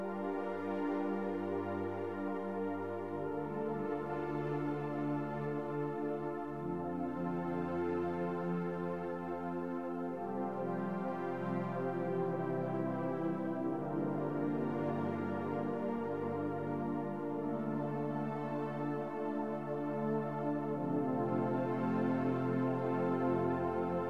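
Sustained keyboard pad chords playing the first chorus of a song, shifting smoothly between chords at a steady, full level throughout with no voices.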